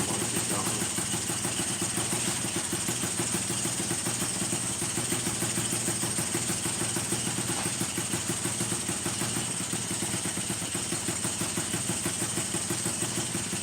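A 1992 Yamaha Jog moped engine idles close by with a rapid, steady putter, while people talk over it throughout.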